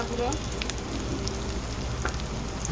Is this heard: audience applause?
no